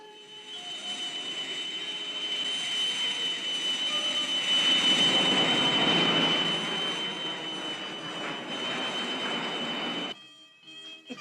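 A jet aircraft engine roars steadily and loudly with a whining high tone, swelling slightly toward the middle, then cuts off abruptly near the end.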